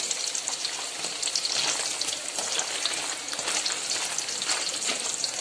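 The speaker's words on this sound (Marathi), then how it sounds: "अशा प्रकारे तळून घ्यायचं आहे पनीर." Cubes of paneer fry in hot oil, giving a steady close crackling sizzle with fine popping that runs unbroken and alone throughout.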